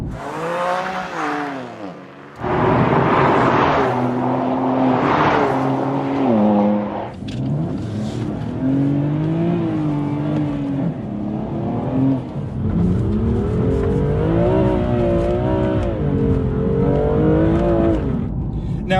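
A BMW M2 accelerating hard and revving, its engine note climbing and falling through gear changes, loud and close for most of the run.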